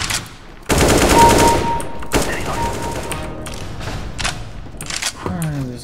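AK-47 fire in Counter-Strike: Global Offensive, a sharp rapid burst of shots followed by several shorter bursts and single cracks, loud and close, with a voice briefly heard near the end.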